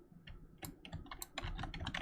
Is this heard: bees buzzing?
no